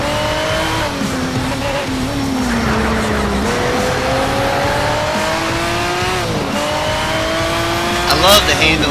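McLaren F1 race car engine in the racing game Need for Speed Shift, a continuous high engine whine rising and dipping with gear changes and some tire squeal, loud throughout, with someone talking over it.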